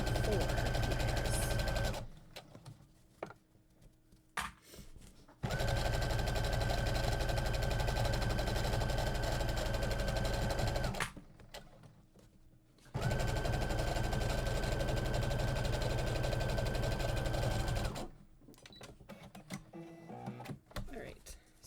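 Sewing machine stitching through four layers of fabric on a tote bag, running in three long steady bursts with a constant mechanical hum and whine, separated by brief quiet pauses.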